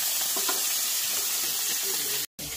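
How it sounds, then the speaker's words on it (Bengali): Pond-caught live koi fish frying in hot oil on a village cooking fire, with a close, steady crackling sizzle running throughout, broken once by a brief silent gap near the end. "আর এদিকে কই মাছটা ভাজা প্রায় কমপ্লিট, তাই তো?"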